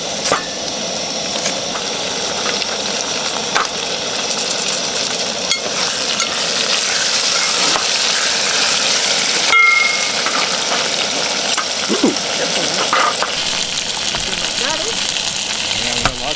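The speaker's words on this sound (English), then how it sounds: "So I'll let the chicken brown up" Chicken browns in a pot on a DIY barrel stove inside a hot tent, giving a steady, dense sizzle and crackle that runs unbroken from start to finish, with a few small knocks.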